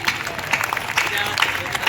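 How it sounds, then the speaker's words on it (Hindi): Audience applause at a Hindi comic poetry gathering, a steady wash of clapping that runs for the whole stretch with faint crowd murmur underneath. "एक बार तालियां दे करके मुझे आदेश दीजिए।"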